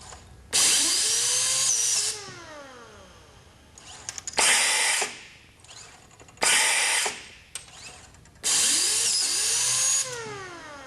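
Machine with drive wheels feeding material through for notching into 36-inch pieces. Loud bursts of mechanical whirring and grinding start and stop in several separate runs, with quieter clatter in between.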